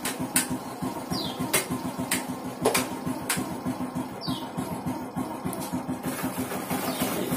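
A Suzuki Shogun SP motorcycle engine runs at a steady, throbbing pulse, with a few sharp clicks from gear shifts scattered through it, close up and without speech.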